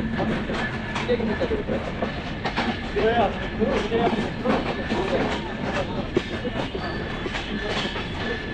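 An express train entering Santahar railway station in Bangladesh rumbles and clatters continuously, wheels clicking over the rails, loud and close from inside the carriage.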